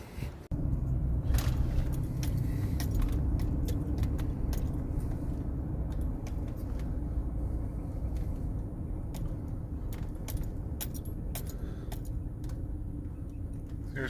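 A car door thuds shut, then the car rolls along with a steady low road rumble and engine hum, broken by scattered light clicks and rattles inside the cabin.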